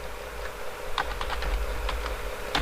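Computer keyboard typing in a café POS spreadsheet setup: scattered key clicks in short irregular bursts, close and fairly crisp over a steady low hum, with no talking.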